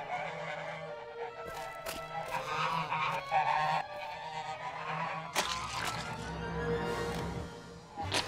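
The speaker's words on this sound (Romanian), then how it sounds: "Am găsit un cârd de gâște rătăcite." A flock of stray geese honks repeatedly in the animated cartoon The Cramp Twins, the calls overlapping in busy bursts with a sudden crash-like clatter partway through.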